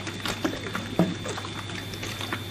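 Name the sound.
fish dropping and splashing into river, sound effect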